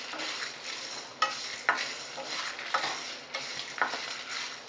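Ingredients for goat leg soup are stirred and roasted in a pan, with a faint sizzle under repeated scraping and clinking strokes of a spoon against the metal at a steady, unhurried rhythm.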